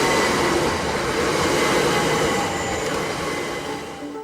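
A train rushes past at speed over a level crossing in the Oxfordshire village of Steventon, a loud, close roar of wheels on rail that holds steady and then begins to fade.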